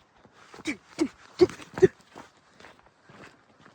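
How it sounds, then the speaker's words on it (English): A person walks down a mountain trail on a glacier overlook hike, with uneven crunching footsteps on gravelly ground: a few firm, close steps, then lighter, quieter ones. "he is walking down a mountain"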